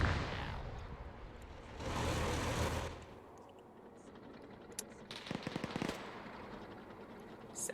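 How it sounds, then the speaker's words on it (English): A tank fires in the Raate Road battle of a multiplayer war video game, with loud booming blasts and bursts of gunfire amid steady battlefield noise and engine rumble. "There's the tank trying to shoot at it."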